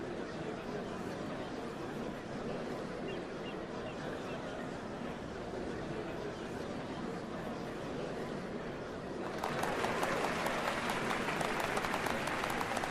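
In a Final Fantasy XIV scene, a crowd's steady murmur gives way to a burst of dense, crackling applause that fills the last few seconds, heard from a moderate distance.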